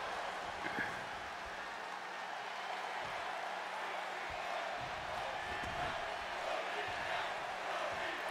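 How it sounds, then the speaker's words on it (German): The crowd in a wrestling video game keeps up a steady, fairly faint roar and murmur of chanting, with a few thuds and voices talking over it. "Was ruft das Publikum?"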